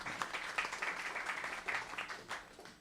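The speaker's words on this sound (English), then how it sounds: "Give them a big hand of applause." Quiet applause from an audience at a jazz history talk, soft scattered clapping with distinct individual claps, heard at a distance and fading toward the end.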